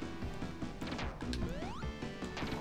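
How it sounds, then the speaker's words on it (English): Objects shatter in a Sonic 3 romhack video game amid busy chiptune music: several sharp crash bursts and a rising sweep over the steady game soundtrack. "The way those things shatter, the sound effect, dang, dang, it's so weird."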